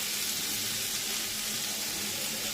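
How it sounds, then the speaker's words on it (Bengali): Water hits papaya frying in a pan and sets off a loud, dense, continuous sizzle that hisses evenly throughout with no voices. "এবার এর মধ্যে আমি জল দিয়ে দেবো, যাতে এটা ভালো করে সেদ্ধ হয়।"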